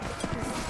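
Horse galloping in Mount&Blade Warband, a brief burst of muffled hoofbeats buried in a dense wash of battle noise.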